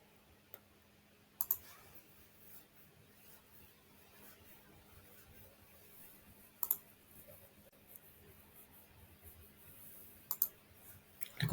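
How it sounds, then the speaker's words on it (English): A computer mouse clicks a few times over a quiet background while building a web page, with short isolated pairs of crisp clicks spaced several seconds apart and faint scattered ticks between them. "We click on it."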